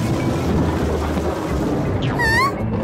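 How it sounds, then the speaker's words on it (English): A loud cartoon thunderstorm on a stormy night: a continuous heavy rumble of thunder and rain that fills the scene, with a brief wavering whistle of wind rising near the end. "It's a stormy night."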